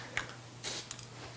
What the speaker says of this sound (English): I'm going to spray it on myself.